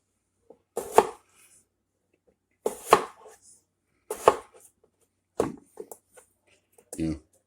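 Skin-on potatoes cut into wedges on a cutting board, four or five sharp knife chops spaced a second or two apart, close up, with a person talking between the cuts.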